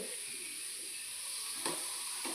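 Food frying in a pan at home, a steady, fairly quiet sizzle and hiss with a couple of brief stirring scrapes near the end.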